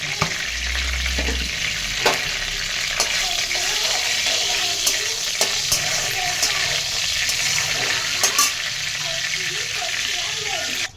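Dried red chillies and nigella seeds temper in hot oil, giving a close, continuous sizzle with crackling spits and occasional clicks of a spoon against the pan.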